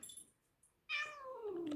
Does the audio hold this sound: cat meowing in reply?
yes